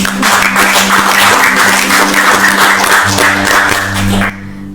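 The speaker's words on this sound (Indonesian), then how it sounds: "Wah, luar biasa, tepuk tangan dong." Clapping from a group of people at an interview event, loud and continuous for about four seconds before cutting off abruptly.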